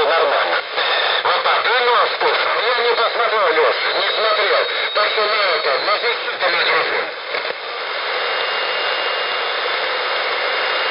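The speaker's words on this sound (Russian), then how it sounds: "А вот так слышно амплитудную модуляцию." An amplitude-modulated shortwave broadcast on 3 MHz plays through a Malachite receiver in a forest. It is loud and band-limited, with a hissy background, and voices talk throughout the transmission.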